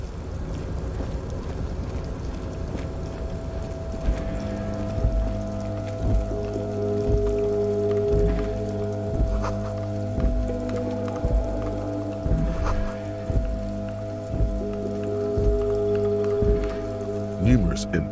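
Steady rain falls in the detective video game Disco Elysium, a constant soft patter layered over a low droning ambient music bed, even and unbroken throughout.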